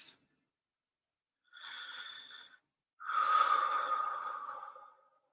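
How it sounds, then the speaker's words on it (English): Two slow, deep breaths drawn close and quiet, each a soft airy rush, the second longer and fuller as the exhale trails off, during a calm guided settling-in with no talking. "take a couple of deep breaths"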